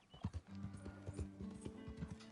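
Horse hooves clip-clop in a steady uneven gallop in Red Dead Redemption II, close and continuous, with a brief snort or whinny-like sound near the start and no talk.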